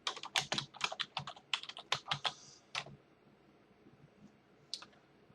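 Rapid bursts of clicking keystrokes on a computer keyboard, close and crisp, in quick clusters, then a pause and a couple of final taps.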